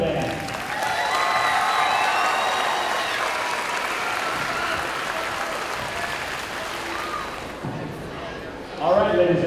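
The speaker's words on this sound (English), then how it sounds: "Can we have one more round of applause for the Custer Band?" An audience applauds a school band at a concert, a dense sustained wash of clapping that slowly fades toward the end as a voice begins.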